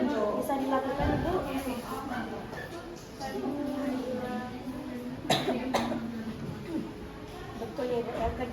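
A person coughs into a tissue while demonstrating cough etiquette, several short muffled coughs nearby, mixed in with ongoing speech.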